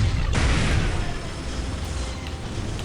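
Plasma cannon firing in the Dawn of War: Soulstorm strategy game, a loud booming blast up front that settles into a dense rumbling roar of battle noise lasting several seconds.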